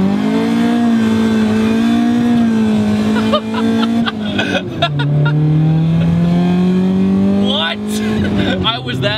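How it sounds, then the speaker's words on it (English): A Honda CRX with a full exhaust revs loud and close, a buzzing engine tone rising and falling through several throttle blips, with a voice talking over it. "CRX has a full exhaust on it, and the way Taylor describes it, it sounds like a bunch of angry bees"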